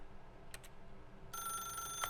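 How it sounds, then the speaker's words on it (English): A telephone rings in The Stanley Parable, a bright electronic bell starting partway through and continuing steadily to the end, preceded by two short soft knocks over a quiet background. "Then pick up the phone."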